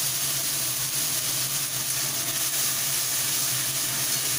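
Spices temper in hot oil for a mustard-paste hilsa dish, giving off a loud, continuous hiss and sizzle with fine crackling throughout.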